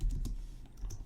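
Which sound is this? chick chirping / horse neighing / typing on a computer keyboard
typing on a computer keyboard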